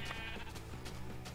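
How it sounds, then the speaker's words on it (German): Sheep bleating in the Minecraft video game, several wavering bleats that overlap in quick succession, steady and close, with no talking. "Oh Gott, oh cool, das sind Schafe."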